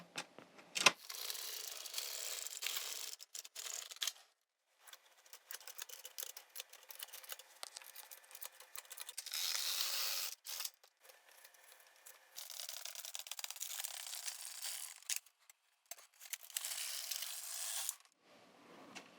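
A knitting machine works through rows with bursts of close, scratchy sliding and clicking as the carriage passes, separated by short silent gaps.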